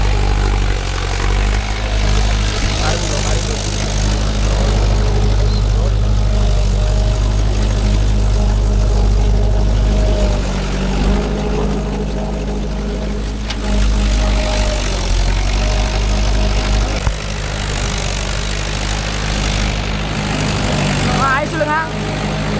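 Mahindra 415 DI tractor diesel engine running steadily in farmland while pulling a nine-tine cultivator, a loud continuous low drone throughout with people talking over it.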